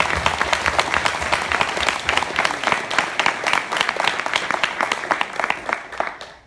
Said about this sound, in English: Can we give a round of applause for the sponsors?